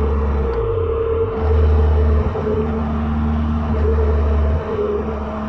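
A deep Caterham sports car engine drones steadily from inside the low-seated cabin, low and loud, rising briefly in pitch as it pulls before settling again, on the Montlhéry circuit.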